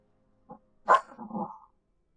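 A small dog indoors lets out a short yip, then one sharp bark trailing into a whiny growl, close and fairly loud against silence.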